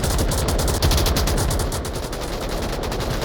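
Gunfire in the virtual-reality shooter Onward during an esports match, a dense, continuous stream of rapid shots at steady loudness with no talk.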